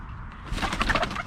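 Tiny, flighty young chicks give a short run of soft, close chirping calls, fairly loud against a low background rumble.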